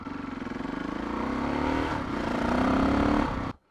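A single-cylinder 640 motorcycle engine revs up twice, its pulsing throb rising in pitch, then cuts off abruptly.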